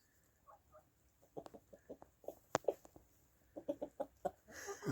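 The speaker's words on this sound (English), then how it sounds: "Oh, cockerel." Chickens cluck in short, scattered bursts at close range, with a sharper cockerel call standing out midway and more clucking building toward the end.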